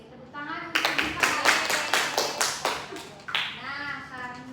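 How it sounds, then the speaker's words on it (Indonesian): A classroom of students claps together after a group presentation, a burst of sharp, close handclaps with some uneven rhythm, fading after a few seconds while children's voices chatter underneath and a voice speaks at the end. "Tepuk tangan untuk kita."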